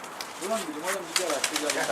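Pigeons cooing, soft repeated rolling coos close by, with someone talking over them.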